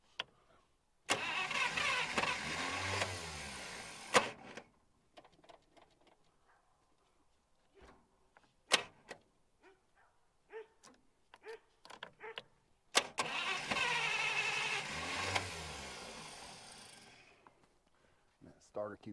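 A long-dormant 1951 Buick Super, its engine cranking in two long bursts of roughly three seconds each with a rhythmic starter churn and brief firing, separated by quieter stretches of clicks and tinkering sounds.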